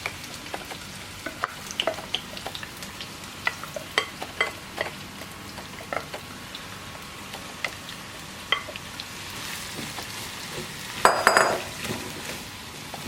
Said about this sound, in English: Just cover the bottom of the pot with oil, and then as soon as it's hot, we put the onion in.